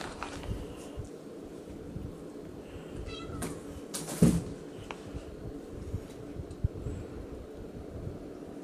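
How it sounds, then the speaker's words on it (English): A cat meows a few times, faint and somewhat distant, over a steady background of wind noise and low rumble, with no clear talk. "You want a snack, Tri-Cat?"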